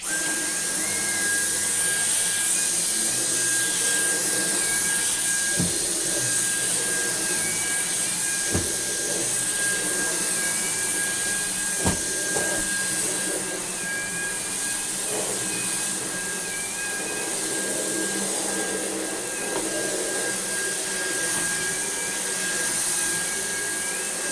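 A retro Sebo Duo dry carpet cleaning machine runs on boost with its head on plus, giving a steady loud motor whine and airflow hum with a few brief knocks and clicks, no talking.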